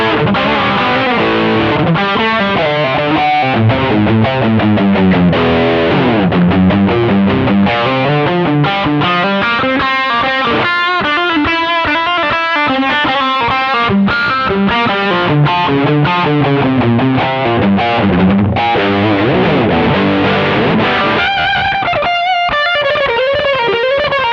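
Electric guitar played through a Shark Rock You Drive distortion pedal with added reverb, giving a continuous, loud, saturated run of chords and notes that goes on without a break for over twenty seconds, with no voices.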